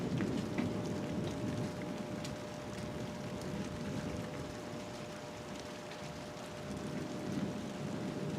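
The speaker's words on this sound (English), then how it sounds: "it's starting to rain just a teensy bit here. Just a little sprinkle." Soft, steady patter of light rain with a low rumbling wash underneath, continuous and fairly quiet throughout.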